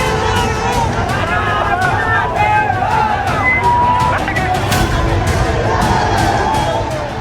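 A dense crowd of ABVP student protesters in Ranchi, Jharkhand, chanting and shouting slogans at a police barricade during the JPSC exam protest, a loud continuous roar of massed voices with scattered sharper cries and street noise.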